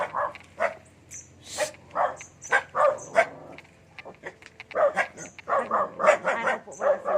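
A fierce dog at a house beside a road barks sharply and yips repeatedly nearby in uneven bursts, with whimpering mixed in and low voices in the background.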